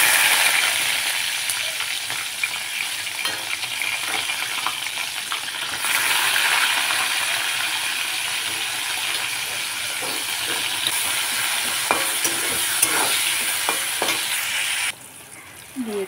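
Chopped onion fries in hot oil with bay leaf and cumin, a steady loud sizzling hiss with occasional stirring clinks, continuous for most of the stretch before briefly dropping away near the end.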